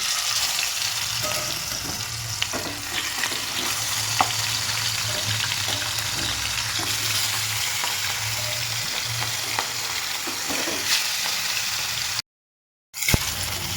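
Pieces of rohu fish frying in hot oil in a wok, giving a loud, steady close-up sizzle with crackling pops throughout, broken only by a brief silent gap near the end.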